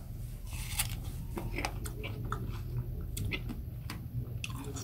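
Wet, crunchy chewing of fresh seeded watermelon, with crisp clicks from the seeds breaking, close to the mouth over a steady low background hum.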